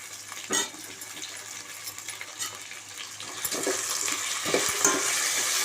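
Tomato and curry leaves are stirred in a pan, with a spoon knocking and scraping against the metal over a soft sizzle that grows slightly toward the end.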